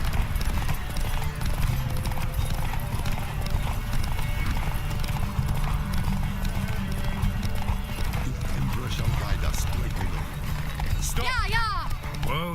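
A horse gallops in The Witcher 3, its hooves clip-clopping in a fast steady rhythm over ambient game sound, with a whinny near the end and a voice talking over the action.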